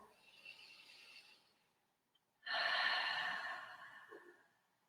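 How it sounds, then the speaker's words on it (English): A slow, deep breath taken during a gentle stretching session, with a soft exhale near the start and then a louder, close, airy inhale-exhale after a brief pause. No talking. "One more nice deep breath."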